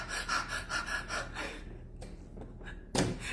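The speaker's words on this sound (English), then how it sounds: "but you're doing it and you're breathing like" Energetic, forceful breathing exercise: rhythmic sharp inhales and exhales pulse close and loud, ease off into quieter breaths, then one sudden strong gasp near the end, with no talking.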